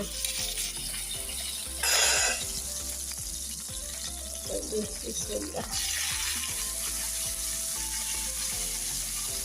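Meat broth frying in a pan, a steady soft sizzle with stirring scrapes and a brief louder splash of liquid hitting hot metal, faint background voice at times.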